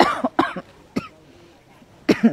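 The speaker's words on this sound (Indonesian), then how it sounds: "Maaf saya batuk ya Bapak Ibu sudah satu minggu ini." A few sharp, raspy coughs in quick succession, then a pause and another harsh cough, close and fairly loud, from a person with a week-long cough.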